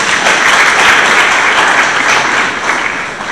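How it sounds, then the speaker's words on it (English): Loud, close audience clapping during a memorial lecture, a thick continuous roar of hands that stays strong and eases slightly toward the end, with no voices over it. "I think women deserve a clap."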